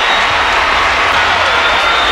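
A Utah crowd at the 2015 Pac-12 gymnastics championships cheers and applauds during a floor routine, a loud, continuous roar of clapping and shouting filling the arena.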